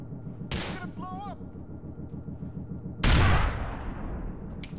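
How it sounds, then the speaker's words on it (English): Two loud grenade blasts in Grand Theft Auto IV, the first sharp burst near the half-second mark and a heavier, longer boom at three seconds, set over steady rumbling game noise with brief whistling tones after the first blast. "Let me throw some grenades."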